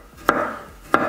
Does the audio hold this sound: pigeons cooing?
no